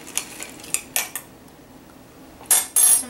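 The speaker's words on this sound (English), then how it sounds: "Stir it some more." A spoon stirs a citrus drink for kids, giving a handful of sharp metallic clinks against a glass at irregular intervals, with a closer, louder cluster of taps near the end and quiet pauses between.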